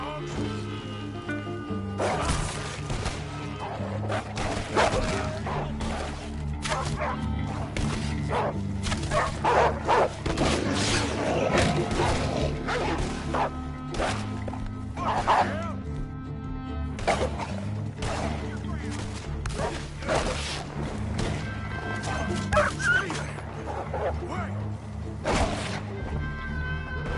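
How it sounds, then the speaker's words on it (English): Dogs barking and whimpering in the video game Red Dead Redemption 2, a steady stream of barks and yips heard over dense music and game noise, with voices talking throughout. "Stay back! Dogs!"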